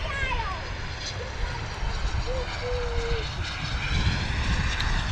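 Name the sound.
Embraer jet aircraft arriving at London Luton Airport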